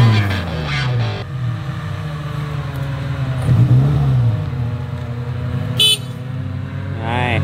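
An off-road car's engine drones and revs on a trail, a continuous rough rumble that swells midway, with a short horn-like toot and voices in the background.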